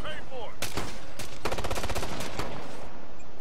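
Rapid gunfire hits a player in the video game Ghost Recon: Future Soldier, with a single shot followed by a burst of fast automatic fire, loud and close.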